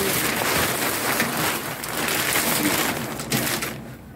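Steady rain falling outdoors, a dense continuous hiss with pattering drops on surfaces, close and even throughout, easing off slightly at the very end.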